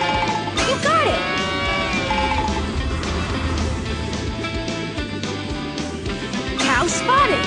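Cartoonish cow moos and bleating farm-animal calls from the PAW Patrol The Movie video game, repeated over busy game music and effects, with a voice speaking over the action.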